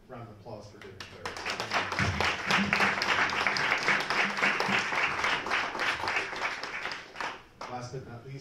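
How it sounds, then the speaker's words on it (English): Audience at an awards event breaks into sustained applause, many hands clapping densely for several seconds before fading, with a speaker's voice before and after. "So a round of applause for David Clare."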